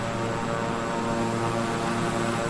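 A King Air 350i twin-engine turboprop in Microsoft Flight Simulator drones on steadily, a dense, loud engine and propeller roar with a constant hum that never lets up, with no voices over it.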